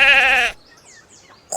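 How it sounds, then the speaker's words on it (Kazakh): A sheep gives one loud, close bleat lasting about half a second, followed by near silence and a faint sound at the very end. "Қой."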